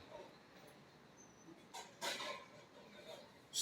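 A dog barks faintly in the distance, a few short yips and barks spread over quiet background noise.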